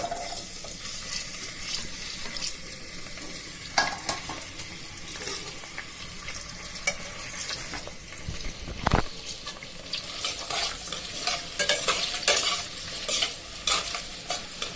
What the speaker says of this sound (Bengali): পেঁয়াজ, রসুন ভাজা হয়ে যাক,